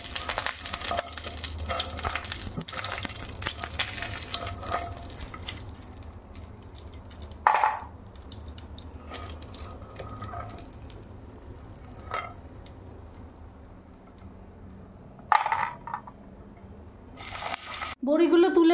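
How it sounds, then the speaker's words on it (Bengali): Bori, small sun-dried lentil dumplings, frying in hot oil make a continuous close bubbling sizzle, with a few sharp utensil clinks and scrapes as they are stirred and lifted out. "বড়িগুলো লাল হয়ে ভাজা হয়ে গেছে, এগুলো তুলে রাখবো।"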